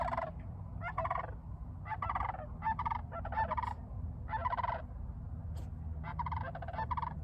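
Large cranes calling outdoors, a series of loud, harsh honking calls in irregular bursts over a steady low rumble of wind or background noise, with no talking.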